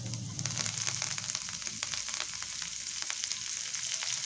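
Whole cumin seeds and chopped coriander leaves frying in hot oil, a steady close sizzle with light crackles throughout, no voices.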